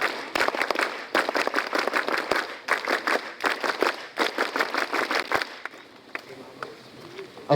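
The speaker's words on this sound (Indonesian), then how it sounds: "Tepuk Pramuka." Assembled students at a Scout ceremony perform the Scout clap in unison, several bursts of rhythmic, sharp clapping in quick groups separated by short pauses, loud and close, then trailing off into quieter room sound.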